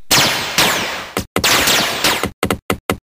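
Gunfire sound effect in a cartoon: a few loud, echoing shots with long ringing tails followed by a quick string of short, sharp bursts, close and alone.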